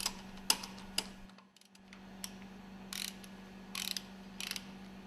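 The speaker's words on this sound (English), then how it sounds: "Mount and tighten the screws for the cooling jacket." Screws are fastened onto the cooling jacket of a MAN B&W two-stroke marine engine cylinder head, with faint metallic clicks and a few short ratcheting bursts over a steady low mechanical hum in a workshop.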